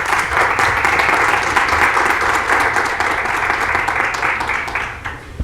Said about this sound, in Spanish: un aplauso para nuestros panelistas, por favor